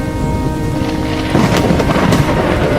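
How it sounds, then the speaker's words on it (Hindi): A thunderstorm in an animated Hindi story: a steady roar of heavy rain and rumbling storm noise, with a louder gust-like surge partway through, continuous and close. "तेज बारिश में नदी के तूफान में बह जाता है"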